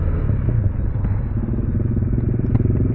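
A KTM Duke 390 motorcycle doing a wheelie at night, its engine a steady close rumble with a low growl and some clatter, held without clear revving changes.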